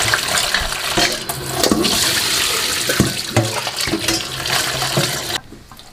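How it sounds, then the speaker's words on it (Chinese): Fish slices being rinsed under running tap water while cooking pickled cabbage fish, a steady rushing splash of water with handling noises, near and fairly loud, then cutting off near the end. "一直把鱼肉抓出盐液，然后洗干净，洗到清水"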